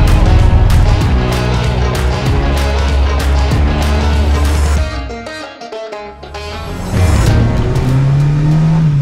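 A Renault 4L with a swapped Zenith 32 carburetor revs hard and accelerates close by, a loud rising engine roar that briefly drops off as it shifts, then climbs again in pitch.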